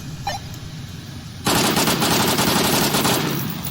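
Gunfire in the VR shooter Onward VR, starting after a quiet moment and then sustained rapid automatic bursts, loud and close, continuing for a couple of seconds before easing slightly.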